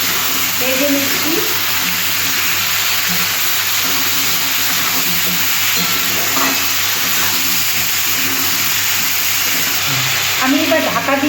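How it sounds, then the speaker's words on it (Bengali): Potato, eggplant, sweet potato and flat beans stirred and fried in oil in a pan, a steady sizzle with a spatula scraping and clinking now and then, close by and fairly loud throughout. "আলু, বেগুন, রাঙা আলু, সিম আছে, এই তেলেতে আমি একটু নেড়ে নিচ্ছি, ভেজে নিচ্ছি।"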